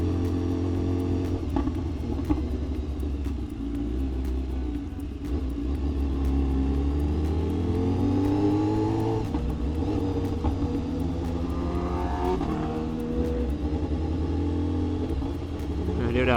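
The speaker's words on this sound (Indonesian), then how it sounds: "Kayaknya cakep deh pure sound-nya di motor." A BMW S1000RR sport motorcycle engine with an aftermarket exhaust drones steadily while riding, its pitch rising and falling through gear changes, loud and close throughout with a continuous low rumble.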